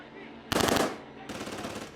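Automatic gunfire rings out in the horror video game Outlast: Whistleblower, with one loud rapid burst followed by a second, slightly softer sustained volley after a short pause.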